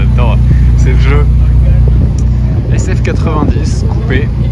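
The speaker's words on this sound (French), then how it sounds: "SF90 coupé, 1000 chevaux." A Ferrari SF90 coupé supercar with 1000 horsepower idles and rumbles on a Monaco street, a steady low engine drone running throughout beneath nearby voices talking.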